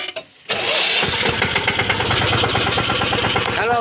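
A tractor engine cranks briefly and catches, then settles into a loud, steady chugging idle close by with a rapid pulsing rhythm.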